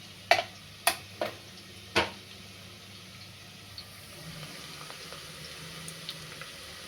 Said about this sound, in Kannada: ಇವಾಗ ಇದು ಫ್ರೈ ಆಗ್ತಾ ಇದೆ